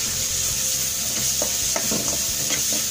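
Coriander powder and garam masala spices sizzle in oil in a pan while a spoon stirs them, giving a steady close frying hiss punctuated by a few scraping knocks against the pan.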